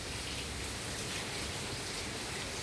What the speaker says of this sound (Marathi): मस्त पाऊस लागला आहे